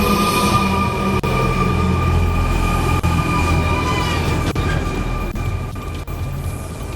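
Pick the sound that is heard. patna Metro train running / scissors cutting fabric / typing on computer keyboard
patna Metro train running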